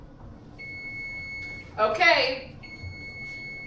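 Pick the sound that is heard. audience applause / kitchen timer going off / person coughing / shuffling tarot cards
kitchen timer going off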